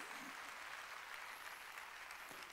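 Faint, distant applause from a Korean church congregation during a Sunday worship service, a soft even patter of many hands that runs on quietly for a couple of seconds without any clear speech.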